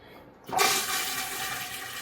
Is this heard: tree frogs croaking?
no